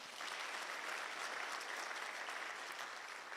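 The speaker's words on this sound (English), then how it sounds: "Kindly let's give them a round of applause." Steady crowd applause for guest speakers at a business forum expo, continuous and even throughout, heard from a distance at modest volume.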